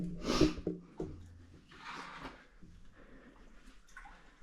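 Sloshing and splashing footsteps through deepening water inside an old, cramped tunnel from 1905, with a louder splash early on, then softer wading strokes and drips echoing close by.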